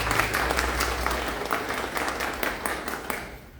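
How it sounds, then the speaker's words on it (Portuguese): Applause from a live audience honoring a dressmaker at a spring fashion trends event, a dense steady wash of many hands clapping that fades out near the end. "Palmas para a nossa modista."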